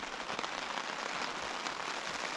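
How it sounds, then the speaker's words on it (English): Steady rain falls at a lakeside hammock camp, a dense, even patter on surfaces close by that continues without a break, with no voices. "You can hear the rain now."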